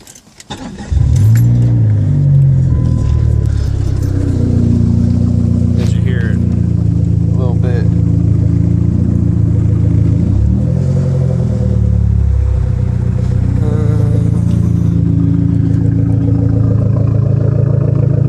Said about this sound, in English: I want to rev it up a little bit.